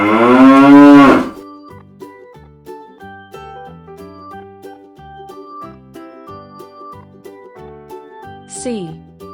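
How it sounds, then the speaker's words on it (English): A cow on a farm gives one loud, drawn-out moo, followed by a cheerful tinkling melody with a short rising whistle near the end. "Cow."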